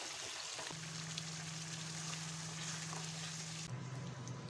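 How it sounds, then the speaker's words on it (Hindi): Milk cooking dry over a medium flame in a pan while a spoon stirs it, a dense, steady sizzle with a low hum underneath and occasional faint scrapes. "इस तरह से मीडियम फ्लेम पे चम्मच को चलाते हुए पकाते जाना है ताकि अच्छे से दूध ड्राई हो जाए।"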